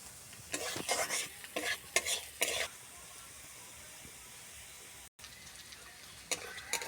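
Red beetroot fried with tomato in a pan, stirred in repeated scraping bursts with a soft sizzle underneath, then a quieter stretch before stirring resumes near the end.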